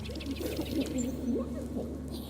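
Birdsong in a video game: wavering, warbling calls over a steady low hum, running continuously for a couple of seconds at moderate level.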